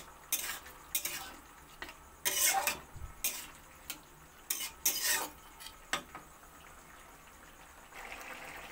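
Poppy seed paste ground with two dried red chillies is stirred with potatoes in a pan, giving irregular sharp clinks and scrapes of a utensil against the pan over a faint background, with no talk.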